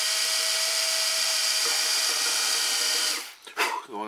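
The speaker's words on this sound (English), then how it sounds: "Now, we will very carefully drill the other one." A small power drill whines steadily and close while boring a hole through a model airplane part, then cuts off with a brief clatter and handling noise.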